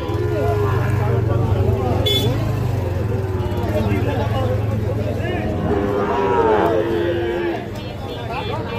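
Cattle market at Ambari haat with Sahiwal bull calves: repeated moos and lowing calls from nearby animals over a constant crowd murmur and passing traffic, with people talking throughout.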